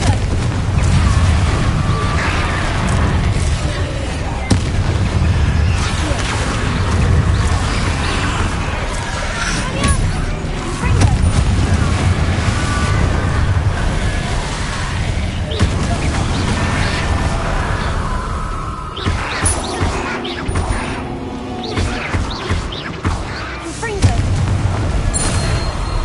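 Confringo fire spells blasting in the video game Hogwarts Legacy, with repeated booming impacts scattered through a loud combat scene and voices talking over the action.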